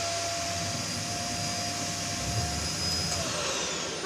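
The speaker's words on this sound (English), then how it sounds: "Now we get ready to put the Hoover on." A Hoover vacuum cleaner drones steadily, a loud, continuous broadband whoosh with a thin whine on top, unbroken for several seconds and heard alone without talk.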